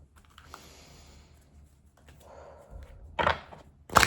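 Tarot cards are shuffled by hand in short, crisp clicking and riffling bursts, quiet at first and then louder near the end, with no talking.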